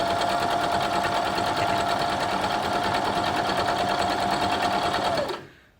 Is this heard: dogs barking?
no